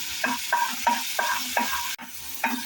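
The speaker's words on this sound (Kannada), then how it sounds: "ಆಯಿಲ್ ಹಾಕಿ ಈರುಳ್ಳಿ ಖಾರ ಹಾಕ್ತಾಯಿದ್ದಾರೆ ಸೊ ನೋಡಿ ಎಣ್ಣೆ ಕಾಯಿದ್ಮೇಲೆ ಮೇಲೆ ಈರುಳ್ಳಿ ಖಾರ ಹಾಕೊಂಡಿದ್ದಾರೆ" Onion and chili masala fry in hot oil in a pan, a steady sizzle broken by rhythmic scrapes of a stirring spoon roughly every third of a second, close and without voices.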